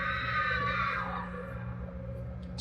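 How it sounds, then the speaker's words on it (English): A drawn-out high scream echoes through a Half-Life 2 Halloween horror map, loud at first and fading after about a second over a steady low droning hum. "It's quite the scream."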